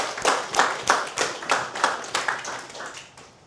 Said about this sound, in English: Just give him a clap.